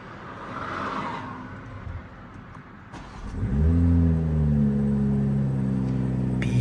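A 2024 BMW M440i starts up partway through, its engine catching with a rising roar and then settling into a loud, steady, deep idle up close after a quieter stretch.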